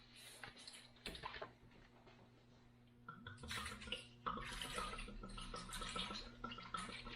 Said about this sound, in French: Puis, maintenant, on va mettre le vin.